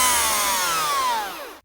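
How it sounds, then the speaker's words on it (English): A vacuum cleaner runs loud and close, a steady whining hum whose pitch slowly falls before it cuts off abruptly near the end. "Ziggy, why are you trying to sit on the vacuum cleaner hose?"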